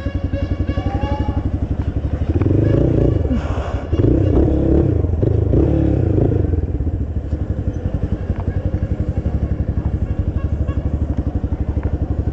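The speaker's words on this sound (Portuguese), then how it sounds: "Vou parar a moto ali, ó, junto com as outras ali." A motorcycle engine putters close by at idle, swells into a louder rev for a few seconds, then settles back to a steady idle.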